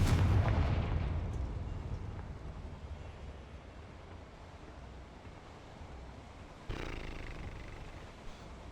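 A Confringo spell going off in a Harry Potter video game: one loud, booming blast that rumbles away over several seconds, followed by a second, smaller burst.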